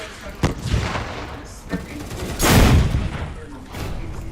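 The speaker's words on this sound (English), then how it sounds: "Friendly Predator missile incoming." Explosions and gunfire from a Predator missile strike in a Call of Duty game, with sharp cracks early on and then a loud booming blast near the middle, while a voice talks.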